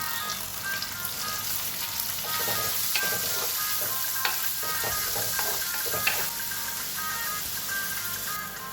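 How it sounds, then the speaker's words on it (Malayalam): Sliced red shallots sautéing in a pan for Kumarakom fish curry, a steady close sizzle with repeated stirring scrapes and taps, no talking. "ചുവന്നുള്ളി നന്നായിട്ട് വഴറ്റുക, കരിഞ്ഞു പോകാതെ."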